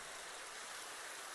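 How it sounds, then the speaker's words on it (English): Steady rain falling in Minecraft, a constant, even hiss of dense rainfall with no gaps or variation, soft in level and heard alone without any talking. "The rain sounds are making you sleepy."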